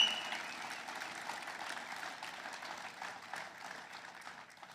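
An audience applauds in a hall, a dense wash of clapping that starts strong and slowly fades over a few seconds.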